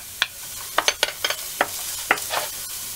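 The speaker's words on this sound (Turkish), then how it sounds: "Tavamızın içerisine 4 yemek kaşığı sıvı yağın içerisine küçük doğramış olduğumuz 2 soğanı ilave ediyoruz." Two small-chopped onions sizzle in four tablespoons of hot oil in a pan, with a soft steady hiss and a series of sharp crackles and stirring clicks scattered through it, close and moderately quiet with no talking.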